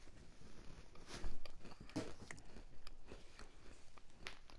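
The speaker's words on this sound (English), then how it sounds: "I'm eating an Oreo" An Oreo cookie is bitten and chewed close to the microphone, with a few sharp crunches followed by softer, quieter mastication over a faint background.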